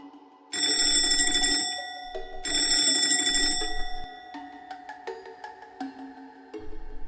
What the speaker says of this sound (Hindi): अलार्म की आवाज सुनकर रजत जल्दी से उठ जाता है।